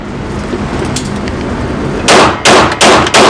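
Gunshots fired at a shooting target during a controlled shooting drill: four loud, sharp reports in quick succession after a stretch of steady background noise.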